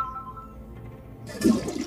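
Water gushing out in the horror video game Granny Chapter 3, a sudden loud splashing rush that cuts in after a quiet stretch and keeps going, with no talk over it.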